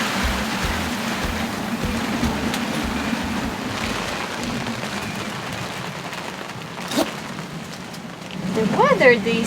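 Rain falling on a sailboat anchored in the tropics, a steady soft patter and hiss with a low hum underneath and a brief louder sound near the end.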